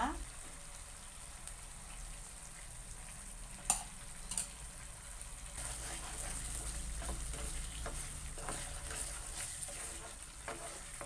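Pineapple halwa with cashews cooks in ghee in a pan, giving a soft steady sizzle and bubbling with a few sharp clinks of a stirring spoon, fairly faint and continuous.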